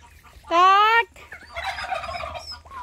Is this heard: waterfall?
no